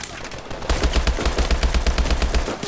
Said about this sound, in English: I like the recoil on this gun